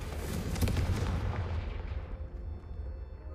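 Confringo fire spell blast in Hogwarts Legacy, a heavy booming explosion that rumbles and crackles loudly, then fades into a decaying tail.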